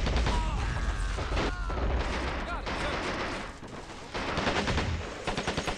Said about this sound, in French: c'est vraiment bien fait, hein, les bruitages, les tirs